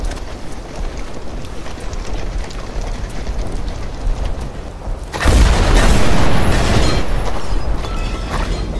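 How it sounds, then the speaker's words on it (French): French 75 mm cannons fire artillery shells in a WWI offensive in the Meuse, 1918, a heavy boom at about five seconds followed by a loud sustained roar and rumble, after a quieter stretch of distant noise. "Les canons de 75 français, donnés aux Américains, crachent un flot constant d'obus sur l'ennemi."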